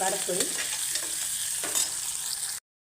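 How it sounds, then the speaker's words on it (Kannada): Onions sautéing in oil for a white kurma, with a close hissing fry and brisk scraping stirs before the sound cuts off abruptly. "ಈರುಳ್ಳಿ ಚೆನ್ನಾಗಿ ಬಾಡಿಸ್ಕೊಳ್ಬೇಕು ಅದರಲ್ಲಿ ನೀಟಾಗಿ ಸ್ವಲ್ಪ ಬಣ್ಣ ತಿಂದ ತನಕ ಈರುಳ್ಳಿ"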